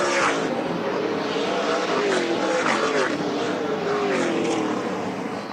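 SRX race cars roar around the Eldora Speedway dirt track, a loud continuous engine drone that rises and falls as the field passes close by.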